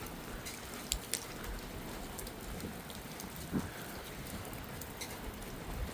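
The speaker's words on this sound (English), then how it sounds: "it looks like the rain is starting to dissipate." Steady rain pours down in a heavy downpour over Montreal, a dense wash of drops hitting surfaces close by, with a few sharper splashes and no voices.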